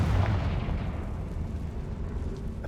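A Confringo fire spell explodes in Hogwarts Legacy with a loud, deep rumbling blast at the start that settles into a sustained low roar and fades slightly over a few seconds.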